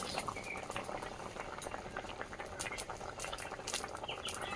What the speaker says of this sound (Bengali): ফুটছে ঝোলটা ফুটে গেছে